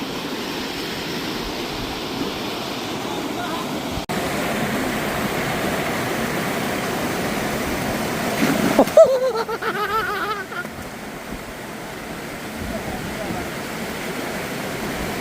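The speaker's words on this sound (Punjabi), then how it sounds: "ਪਾਣੀ ਇੱਥੇ ਬਹੁਤ ਸਪੀਡ ਨਾਲ ਚੱਲਦਾ" Loud, rushing water of a fast-flowing river roars continuously, with a burst of splashing partway through and a voice faintly audible over the flow.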